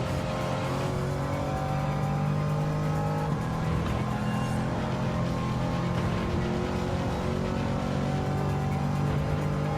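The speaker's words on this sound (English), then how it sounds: "the thing I like about the Corvette ZR-1, this freaking engine sounds beautiful" A 1989 C4 Corvette ZR-1's V8 roars steadily in a racing video game, a loud, continuous engine drone holding high revs with slight pitch shifts throughout.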